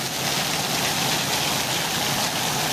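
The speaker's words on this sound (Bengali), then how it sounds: "বৃষ্টি বৃষ্টি বৃষ্টি, তুমুল বৃষ্টি।" Heavy rain pours down in a dense, steady hiss of countless drops hitting surfaces, loud and unbroken for the whole stretch, with no voices.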